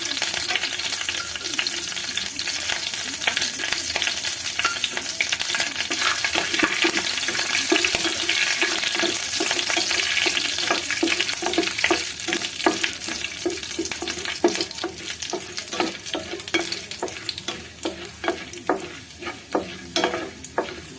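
Chana dal dropped into hot oil for a tempering, frying with a steady loud sizzle and crackle, bursts of spitting and stirring scrapes growing more distinct toward the end, with no talk.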